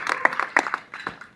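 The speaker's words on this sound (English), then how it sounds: "let's give them a well round of applause" A few people in a small audience clap in a sparse, uneven patter of separate hand claps, fairly close and fading toward the end.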